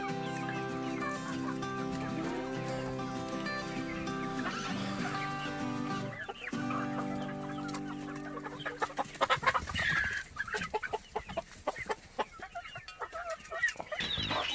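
Cheonggye chickens cluck and chatter close by in a new brooder house, with high chick peeps mixed in and a steady hum underneath, growing busier toward the end.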